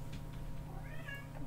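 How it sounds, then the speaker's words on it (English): A cat meows once at a door, a short faint rising cry partway through, heard over a low steady indoor hum. "He's gonna meow at my door."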